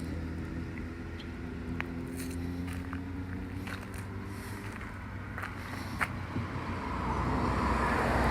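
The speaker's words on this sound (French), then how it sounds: "Donc, si les voitures que vous entendez, je pense," Steady road traffic hums from cars passing on a road behind a lake, a continuous distant wash that swells louder near the end, with faint scattered clicks nearby.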